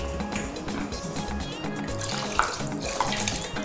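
Water pours steadily into a pot of Banga soup made with palm fruit extract, a soft continuous liquid trickle lasting a few seconds under faint kitchen clatter.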